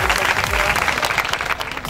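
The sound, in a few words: applause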